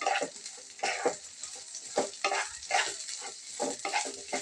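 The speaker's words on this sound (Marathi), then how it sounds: "तेला तुपामध्ये चांगला आपण भाजून घ्यायचा" Whole spices such as cloves and cinnamon roast in hot oil and ghee in a pan for sweet coconut rice, giving a steady close sizzle broken by repeated scraping stirs, with no talking.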